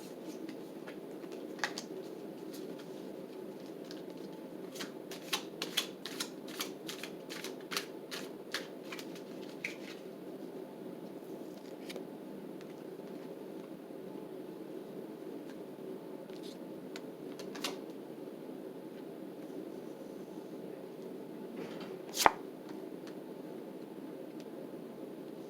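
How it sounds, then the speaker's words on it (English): Tarot cards are shuffled close up in a quiet room, a run of crisp riffling snaps and soft card slides clustered early on, then sparser taps and a sharper click later over a low steady hiss. "Get some shuffling going on here."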